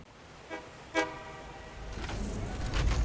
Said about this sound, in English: Once I hear the train whistle, I'm basically going to just turn on self-driving in this train